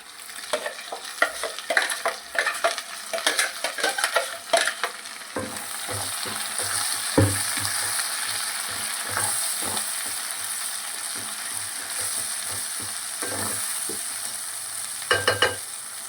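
Ground tomato paste sizzles in a pan for butter paneer masala, with a steady hiss under repeated scraping stirs and clatter that are busiest early and return in short bursts.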